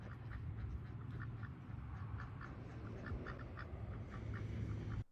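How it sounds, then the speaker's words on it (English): A plump, overweight duck quacks again and again in a rapid, steady series, close and fairly loud, with no voices over it. "I guess it's possible for ducks to become overweight because I have never seen a chubby duck before."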